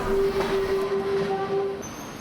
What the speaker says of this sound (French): Nous observons le passage d'une rame historique.